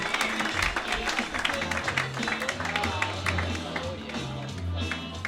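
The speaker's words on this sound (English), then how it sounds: "Clap for him. Clap for him. Let him hear it." Audience applause at a Denver roast battle greets a competitor, steady clapping from a crowd filling the room with a low music bed underneath and some scattered voices.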